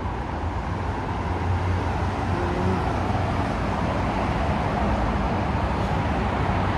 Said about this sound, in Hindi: नीचे आवाज़ आ रहा है ना, ये गाड़ी का है, इतना तेज़ में जा रहा है इधर गाड़ी।